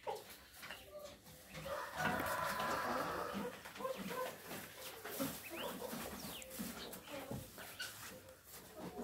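Hens cluck and chatter inside a backyard henhouse with no rooster, a busy mix of close and farther calls, with faint speech now and then in the background.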